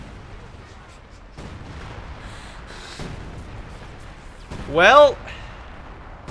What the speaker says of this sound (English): Yep, artillery coming in.